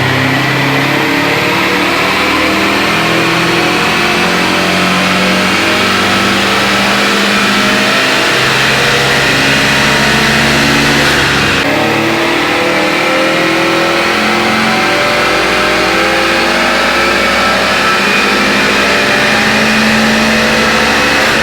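An AWD Honda Civic pushing 700+ wheel horsepower revs hard on a dyno, its engine note climbing steadily and loud for the whole pull, a brief shift or dip midway, with no talking over it.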